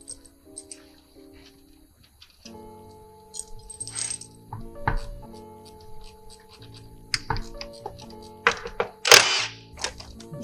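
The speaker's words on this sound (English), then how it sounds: "Out comes our valve body. And all our check balls, apparently." Steel check balls spill from a 1997 GMC K-series 4L60E transmission valve body. They land as scattered small metallic clicks and taps, with a few sharper clatters, close up over quiet handling noise.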